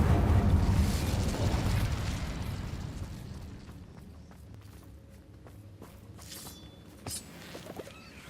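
A fire spell cast during a wizard battle in Hogwarts Legacy bursts in a loud whooshing blaze that fades over several seconds, followed by quieter footsteps and small clinks.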